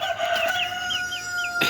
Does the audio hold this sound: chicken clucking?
yes